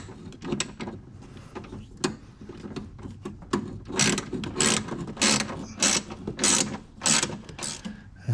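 Ratchet with a 1/2-inch socket snugging a 13mm bolt on a Camaro, a run of quick metallic clicking strokes in close, repeated bursts, growing louder and steadier toward the end, with no talk.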